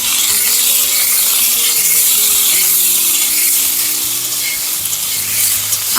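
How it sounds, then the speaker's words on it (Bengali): Cucumber and mango pieces stirred with a metal spatula in a hot pan, a steady close sizzle with soft scraping running throughout over a low background hum, no talking. "এবার খুন্তি দিয়ে খুব ভালো করে একটু নাড়াচাড়া দিয়ে নেব"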